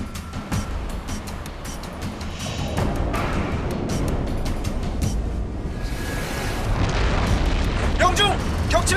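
A submarine torpedo launch and explosion that sinks an enemy ship: a sustained heavy rumbling roar with deep booming bursts, loud and close, with some dramatized voices calling out over it.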